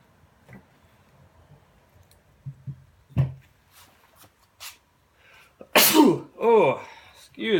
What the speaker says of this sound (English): I had to sneeze and I just had to stick with it.